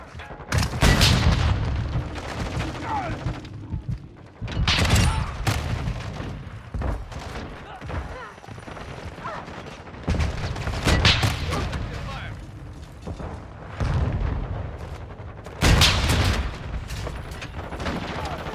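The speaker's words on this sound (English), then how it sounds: "Oh, just walked into a firing line. Taking fire!" Loud bursts of gunfire and heavy booms in the video game Modern Warfare 2, arriving in several separate volleys across the stretch with quieter gaps, alongside in-game voices.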